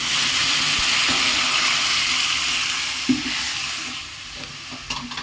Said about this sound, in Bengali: সর্ষেটা একটু পুড়ে পুড়ে এসছে এবার টকটা ঢেলে দেবো